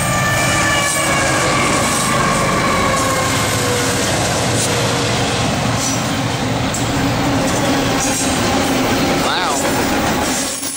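A freight train pulled by mixed BNSF, Kansas City Southern and Union Pacific locomotives rumbles past loudly and close, with steady rolling wheel noise, faint squeals and a horn-like tone, while people talk over it.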